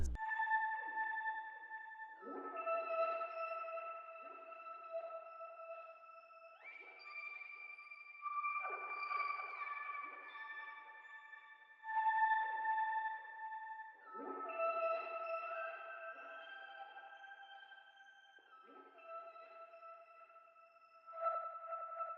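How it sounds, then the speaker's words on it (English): A warbling synthesizer lead plays gliding, sliding notes in a slow, wandering melody, spacious and echoing, with no voices. "Then lastly, I added this weird trippy lead."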